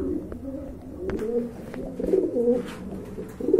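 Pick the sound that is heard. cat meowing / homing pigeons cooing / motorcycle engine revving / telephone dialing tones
homing pigeons cooing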